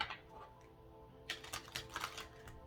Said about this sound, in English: I'm going to go ahead and shuffle these for you guys